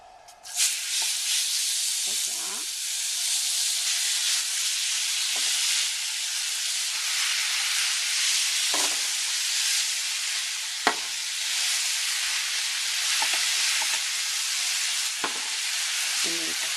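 Cooked spaghetti squash sautéing in melted butter in a pan, a loud, steady sizzle and hiss running throughout with occasional brief clicks and stirring sounds from tongs.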